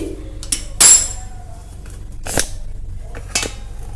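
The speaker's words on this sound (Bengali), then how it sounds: "এবার দেখুন সেই তেল মাখানো থালাটা কিন্তু নিয়ে চলে এসেছি" A metal plate greased with oil is picked up and set down in a kitchen, giving a few sharp metallic clinks and scrapes spaced apart over a low steady hum.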